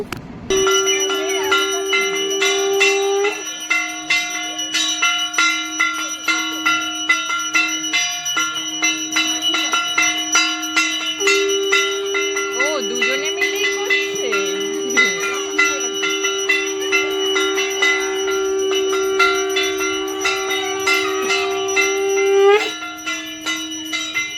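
Bells ringing steadily during a Manasa puja aarti, a continuous bright metallic clanging with sustained ringing tones, close and loud throughout, with faint voices and crowd murmur in the background.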